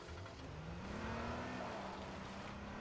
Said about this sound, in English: Well, there's a cop car.